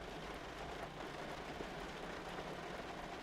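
Steady, soft rain hiss fills a quiet antiques shop, a continuous even wash of drizzle with no distinct drops or voices, heard faintly throughout.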